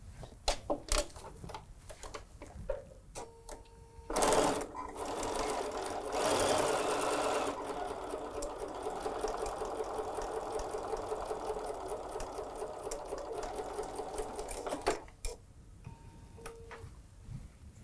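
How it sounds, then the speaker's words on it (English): A sewing machine stitching fabric for quilt star blocks starts with scattered clicks and ticks, then runs in a long, loud, steady whirring stretch. It stops, and a few light ticks follow. "I'm gonna go sew that."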